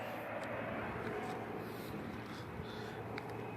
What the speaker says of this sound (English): That's a helicopter or what?